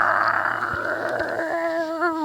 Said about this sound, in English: I'm getting attacked by wild dogs.